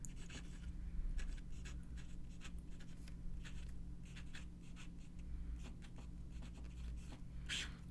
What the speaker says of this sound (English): And reverse writing is a little bit scratchy.